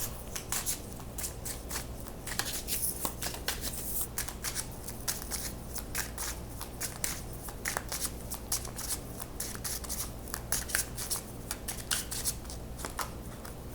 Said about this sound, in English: let's get a couple more tarot cards and we'll be done.